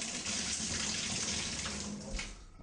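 Water rushing steadily through an opened Price Pfister shower valve to flush out debris, a loud continuous hiss and splash that wavers slightly near the end.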